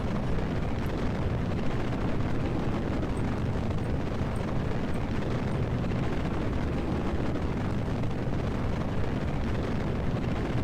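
Solid rocket booster engines burning on a heavy lift launch in Kerbal Space Program, a continuous loud, dense rumbling roar that holds steady without a break and no talk over it.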